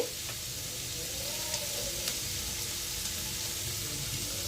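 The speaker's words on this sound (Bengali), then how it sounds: "এবার ভালোভাবে সব উপকরণগুলো ভেজে নিচ্ছি বাদাম পেঁয়াজ টমেটো কাঁচা লঙ্কা" Peanuts, onion, tomato and green chilli fry together in a pan for masala dosa filling, a quiet, even sizzle with occasional faint stirring clicks and no talking.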